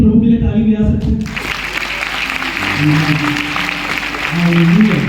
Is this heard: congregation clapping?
yes